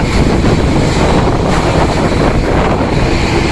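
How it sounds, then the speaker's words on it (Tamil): Strong wind at sea roars and buffets the microphone aboard a small fishing boat. The rush is loud and unbroken, heard alone without talk. "காற்று அதிகமாக இருக்கு"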